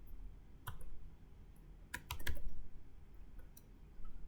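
Typing on a computer keyboard while entering spreadsheet parameters by hand: a few scattered clicks, then a quick cluster of keystrokes near the middle and a couple more toward the end, crisp and close in a quiet room.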